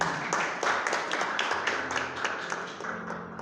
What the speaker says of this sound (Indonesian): Tepuk tangan untuk penari kami